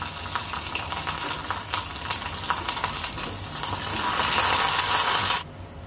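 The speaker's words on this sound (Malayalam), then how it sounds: "എല്ലാം കൂടെ ഒന്ന് എണ്ണയ്ക്കകത്ത് കിടന്ന് ചൂടാകട്ടെ." Curry leaves and mustard seeds sizzle steadily in hot oil for a vegetable thoran, a dense crackling fry with scattered pops that swells louder near the end before cutting off abruptly.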